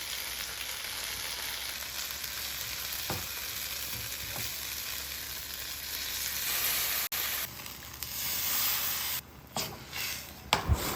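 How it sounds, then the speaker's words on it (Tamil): A pot of curry simmers with a steady, crackling bubble and sizzle, close by, with a few clinks and scraping near the end. "அது கொஞ்சம் நேரம் கொதிக்கட்டும் நல்லா"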